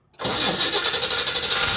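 A cold 1968 Chevrolet Camaro RS convertible V8 with Edelbrock parts cranks briefly and catches, settling into a loud, steady close-up idle that stays level to the end.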